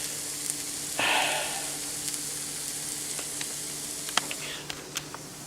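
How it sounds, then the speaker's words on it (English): Sausage and hash browns fry in oil on a griddle with a soft, continuous sizzle, a brief louder hiss early on, and a few faint clicks and taps scattered over the low, steady hum. "I got to put some more oil on this griddle so that my hash browns can brown up and the sausage can brown up"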